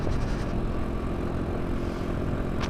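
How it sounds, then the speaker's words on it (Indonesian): A motorcycle with a leaking exhaust runs with a steady, rough, low engine drone, moderately loud and continuous, with no speech over it. "knalpot gua bocor"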